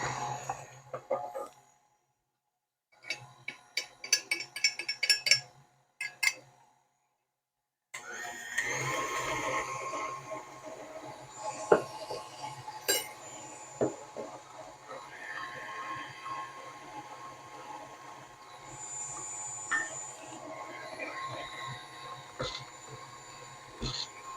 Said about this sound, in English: And we add this to mixture and beat it in.